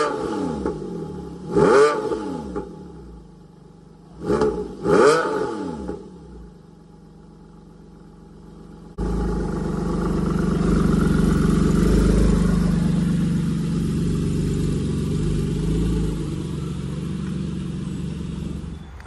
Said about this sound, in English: So cold start. Who loves cold start? Everybody loves cold starts.